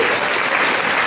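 An audience claps steadily at a French slam poetry event, a dense continuous wash of applause filling the whole short moment.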